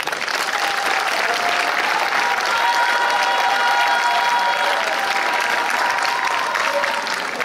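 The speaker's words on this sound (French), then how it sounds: "je demanderai d'applaudir très fort" Loud, sustained applause from a large gathering at a youth event in Bouaké, a thick continuous roar of clapping with faint crowd murmur mixed in.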